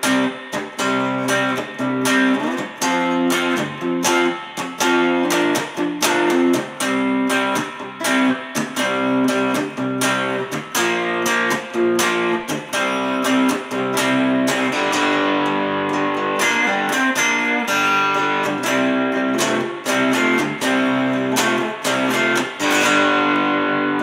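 Electric guitar playing the verse and chorus riff of a song as practice, with strummed rhythmic chords, steady and loud throughout, no talking.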